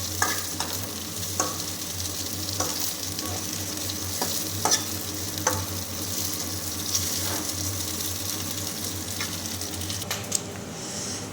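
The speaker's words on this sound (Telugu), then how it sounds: "నల్లేరును బాగా ఎర్రగా బ్రౌన్ కలర్ వచ్చేంత వరకు వేయించుకోవాలి." Nalleru (veldt grape) stems frying in hot oil, giving a steady close sizzle with a faint running-water hiss behind it and several sharp scraping stirs spread through the stretch.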